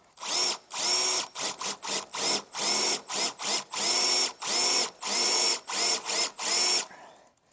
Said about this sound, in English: I usually start off the hole with a smaller universal drill bit, or like the universal drill bits from Harbor Freight